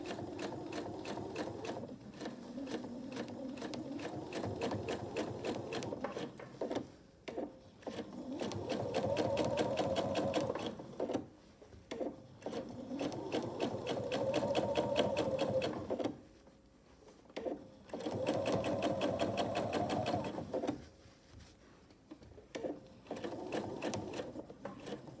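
Up close, a sewing machine quilts a braided table runner in long, steady whirring runs, pausing between passes with quieter gaps and small clicks as the fabric is repositioned.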